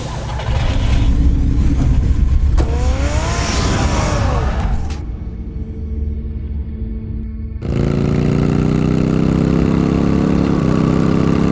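Batman's car engine in a video game runs loud and close with rising, whining revs. It cuts out briefly, then returns as a steady, heavy hum.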